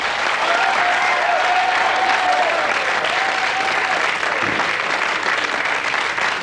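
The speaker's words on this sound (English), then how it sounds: "Give them a round of applause" A game show studio audience applauds with dense, continuous clapping that stays loud and even from start to finish, with no talk over it.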